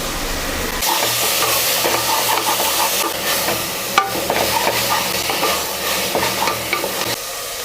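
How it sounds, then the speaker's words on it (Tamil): Mint and coriander leaves sauté in a pan for chicken masala biryani, giving a continuous loud sizzle with scraping stir strokes throughout. "கொத்தமல்லி புதினா நல்லா வதங்கி வந்துடுச்சு"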